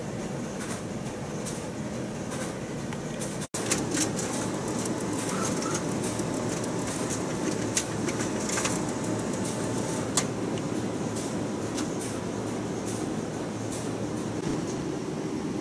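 A black-and-white Canon imageRUNNER Advance office printer prints a booklet, giving a steady broad mechanical whir with a few sharp clicks throughout, continuous and moderately loud.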